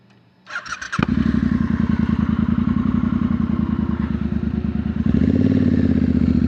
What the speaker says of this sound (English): we'll see if I can get some exhaust sound on this bad boy